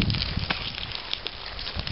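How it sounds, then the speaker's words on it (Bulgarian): Fire burning outdoors during an airsoft game, a close crackling and rustling roar with irregular pops and wind-like noise, no talk heard. "Ето огъня гори"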